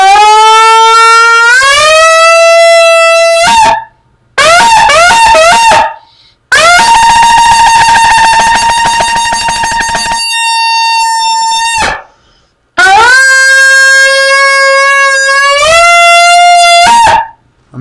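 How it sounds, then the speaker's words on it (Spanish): A shofar horn sounds in several long, loud blasts, some steady and some broken into short bursts, with gaps of silence between them and no talking. "qué sonido tan bello saca este chofar"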